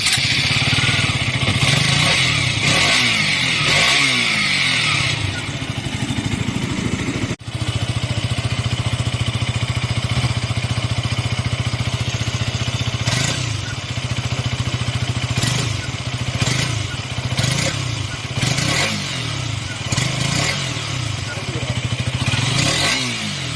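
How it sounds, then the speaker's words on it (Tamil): The stock exhaust of a KTM RC200 motorcycle, loud and close, drones continuously with repeated revving surges and mechanical clatter. "அண்ட் இந்த வண்டியோட ஸ்டாக் எக்ஸாஸ்ட் நோட் வந்து வீடியோவில் ஆட் பண்ணியிருக்கேன்"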